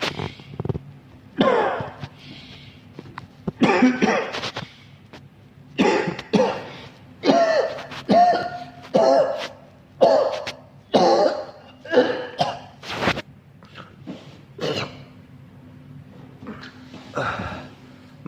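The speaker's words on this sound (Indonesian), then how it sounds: "kita batuk-batukan juga." One person coughs hard again and again on purpose to bring up phlegm while recovering from COVID-19, giving a long run of harsh bursts with short gasping breaths between them, close and loud.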